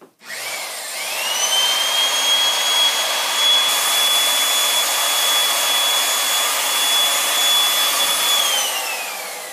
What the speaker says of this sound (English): we run the 700 in reverse to reverse the thread off the pipe